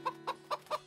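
Chickens clucking in four short, evenly spaced bursts, close and fairly quiet over a faint steady hum.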